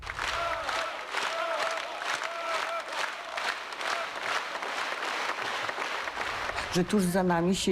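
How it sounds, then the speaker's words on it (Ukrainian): Loud, sustained standing ovation from a large crowd, dense clapping filling the space throughout, with a voice rising briefly at the end. "І тоді я отримав бурхливі овації. Як кажуть, стоячи."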